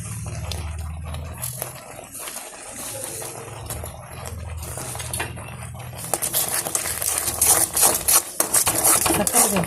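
Sugar is stirred into a thick sugarcane halva mixture in a pan, giving rapid, continuous scraping and clinking of a spoon against metal that grows busier and louder in the second half.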